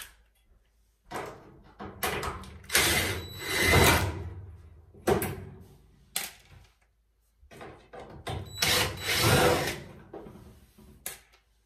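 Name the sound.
power drill removing screws from Samsung dryer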